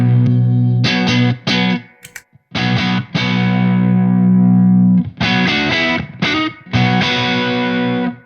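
Electric guitar played through a Wampler Pantheon overdrive pedal set for a light kick, loud chugging chords and sustained ringing notes with short pauses between phrases.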